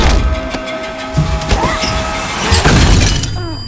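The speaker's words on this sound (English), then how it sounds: "And he smashed the glass on the Atomic Queen oven" Glass shattering against an Atomic Queen oven in a Fallout TV scene, a loud crash and breaking burst over dense soundtrack noise and mechanical clatter, close and harsh.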